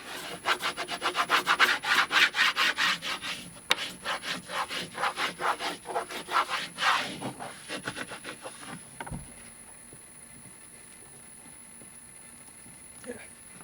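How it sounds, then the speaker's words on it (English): Sheet metal for a Datsun 670 oil pan is burnished with quick, rhythmic back-and-forth rubbing strokes, close and steady for several seconds before stopping, leaving quiet shop ambience. "Burnish this side as well."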